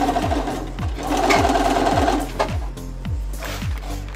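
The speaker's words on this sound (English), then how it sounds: "I'm stitching about an eighth of an inch from my seam" Sewing machine stitching a pant cuff, a close, loud mechanical hum with a rhythmic thump of the needle repeating roughly every half second throughout, with no talking.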